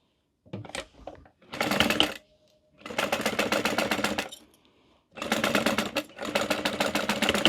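A sewing machine stitching fabric pieces for a mini wallet, close and steady, running in several bursts of a few seconds each with short quiet pauses between.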